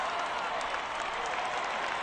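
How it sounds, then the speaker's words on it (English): Brief crowd applause from Pittsburgh Pirates fans in the baseball video game OOTP19, a dense, even wash of clapping sustained at moderate loudness for two seconds. "Pittsburgh Pirates fans applaud the tremendous defensive effort."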